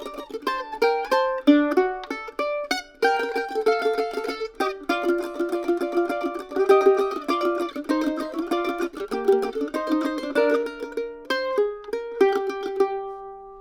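A mandolin plays the B part of a waltz alone, with bright plucked notes and double stops in a lilting three-beat rhythm that settles on a held final chord.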